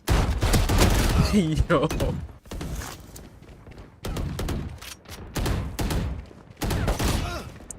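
Shotgun fire in the FragPunk video game, a rapid cluster of heavy booming blasts followed by several more spaced shots and thuds amid game noise, with a person speaking briefly.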